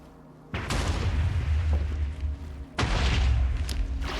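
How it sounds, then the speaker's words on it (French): Two deep booming explosions in the video game Minecraft, the first bursting in just after the start and the second later on, each with a heavy low rumble that lingers before fading. "Je me suis pas soucié des explosions."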